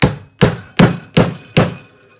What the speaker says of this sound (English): I'm going to take my brass hammer and I'm going to hammer it down in there.